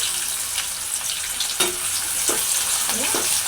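Chopped onions and about a dozen black peppercorns fry in a pan for beef lung bhuna, giving a steady, close, bright sizzle with a few brief stirring scrapes and clinks throughout, and no voices.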